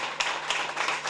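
Concert audience applause, a dense wash of many hands clapping close and continuous with no voices.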